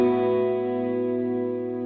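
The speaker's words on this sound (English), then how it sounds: "I put a little tremolo auto pan after the delay" Electric guitar sustaining a chord through a Line 6 Pod Go, with delay followed by a gentle sine-wave tremolo auto pan at slow speed, ringing steadily and evenly for the whole stretch with no voices.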